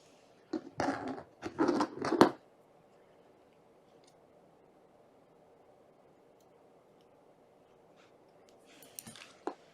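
Scissors snip through the two yarn tail ends of a crocheted baby sweater in a quick cluster of close, crisp cuts, followed by a long quiet stretch and a few faint rustles at the end.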